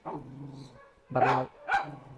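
A dog barks nearby: three sharp barks with short pauses between them, the last two louder.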